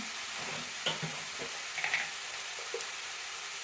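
Ridge gourd fry seasoned with salt and turmeric stirred in a pan, a low continuous sizzle with a handful of light spoon scrapes and taps; no voices.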